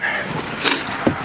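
Keys jangle briefly nearby in a couple of quick metallic shakes.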